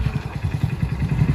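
A nearby motorcycle engine runs at a low, steady, rhythmic putter, with even pulsing throughout the short stretch and no other sounds on top.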